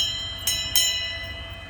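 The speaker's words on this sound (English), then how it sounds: "And that's the bell." Two quick, bright metallic bell strikes ring out close by on arrival at a roadside stop in Mexico's tequila country. Each strike leaves a shimmering ringing tone that fades slowly, with low background rumble beneath.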